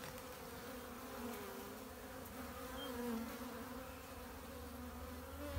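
Honey bees swarm around a hive being split, with a steady, dense buzz of many insects close by that swells slightly at times, and no voices.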